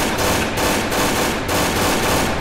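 Counter-Strike Source gunfire with an MP5 submachine gun, dense continuous rattling bursts filling the whole stretch at steady loudness, with no speech over it.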